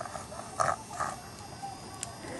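A voice imitates a pig, giving a couple of short oinking snorts, fairly faint against room noise.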